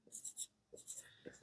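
Marker or chalk writing on a board during a nuclear physics lesson, giving soft scratchy strokes in two short bursts separated by a pause, quiet and close.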